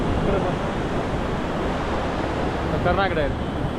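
Floodwater of a river in Nashik surging around a submerged temple, a steady broad rushing roar mixed with wind buffeting the microphone, with a voice briefly audible.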